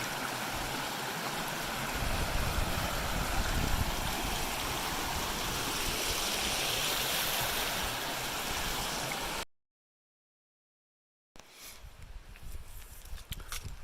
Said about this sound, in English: Still walking along Skytop Creek.